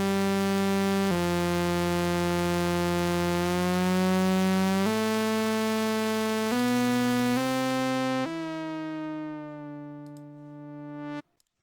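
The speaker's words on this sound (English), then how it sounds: "This is how it sounds with no effects." Dry synth lead tuned to sound like a trumpet, played without any effects, holding a series of long sustained notes that step between pitches, bright and buzzy, steady and loud, ending abruptly; no one talks.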